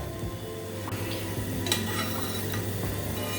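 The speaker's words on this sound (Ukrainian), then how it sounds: "Зараз трішки підсмажимо це." Quiet sizzling of food frying in a cast iron pan, with occasional scraping and light clinks of a utensil stirring, steady throughout.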